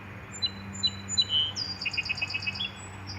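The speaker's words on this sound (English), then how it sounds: "There's a bird in there." A small bird chirps in a garden at sunset, with a few scattered high calls followed by a quick run of repeated tweets over quiet outdoor ambience, with no voices.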